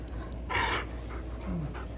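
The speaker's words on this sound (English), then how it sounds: "That's my dog." A dog pants quietly and steadily for about two seconds beside a project removing the original V8 engine from a 1969 Chevy Camaro, with a faint whimper and low background hum.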